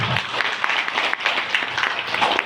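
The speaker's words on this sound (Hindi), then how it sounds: "एक जोरदार ताली बजाएंगे तो बताएंगे।" Audience bursting into loud, dense applause that holds steady for a couple of seconds, with faint crowd murmur beneath.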